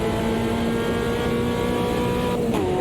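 Fiat Uno race car in Automobilista 2 accelerating hard, a loud steady engine note climbing in pitch, with a brief shift near the end.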